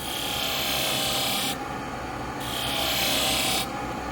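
Knife edge pressed against a polisher spinning at about 1400 RPM: a loud, continuous abrasive hiss and whir with two or three strokes where the bright grinding rasp swells and then drops back to a steady motor hum.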